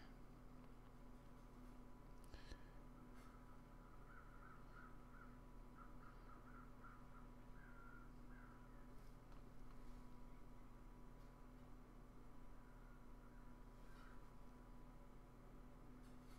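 Crows caw faintly in the distance in the survival game The Long Dark, a short run of repeated calls in the middle over a steady low wind-like hum, with no one talking.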